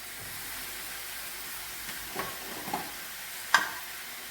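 Masala cooks in a pan with coarse salt and turmeric, giving a faint, steady sizzle with a few soft stirring scrapes and a brief clink near the end.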